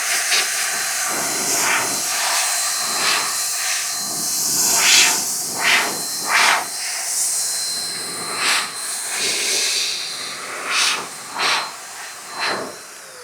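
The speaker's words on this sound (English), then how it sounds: "This Master Blaster has heated air. This is dry to the touch now" A Master Blaster heated air blower dries an Alcantara car interior with a steady, close, loud rush of hissing air, swelling into repeated short gusts as the nozzle sweeps across the fabric.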